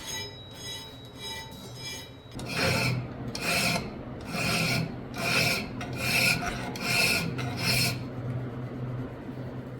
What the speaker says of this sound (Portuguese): eu vou pegar um outro guia de lima e dar uma alinhada ali na parte inferior do ricaço